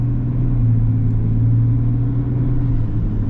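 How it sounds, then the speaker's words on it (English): A diesel GMC Sierra AT4X pickup truck being driven gives a steady, low engine rumble heard from inside the cab. The drone stays even and fairly loud with no voices. "Love this diesel, such a good powertrain."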